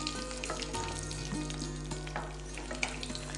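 Whole spices for biryani (cardamom, cloves, cinnamon, bay leaf) fry in hot oil with a dense, continuous sizzle and crackle, close and steady, with a few light stirring knocks and no talking.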